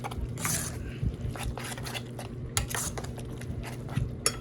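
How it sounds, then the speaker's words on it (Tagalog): Metal utensil stirring and tossing aromatics in a pan while cooking Filipino dishes, giving repeated soft scrapes and light clinks at close range over a steady low background hum. "So, halo-halo lang, ikot-ikot lang, ha?"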